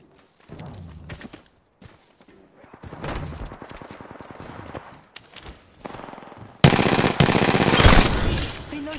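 Gunfire in an Apex Legends match: quieter rattling shots with some voice-like sound early on, then a sudden loud, close, sustained burst of automatic fire near the end.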